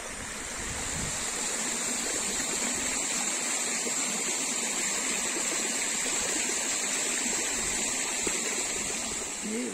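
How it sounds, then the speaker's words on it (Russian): Steady roar of falling water from a waterfall in the Uch-Kosh gorge near Yalta, Crimea, continuous and full, with a constant rushing hiss and no voices. "с какой высоты падает вода."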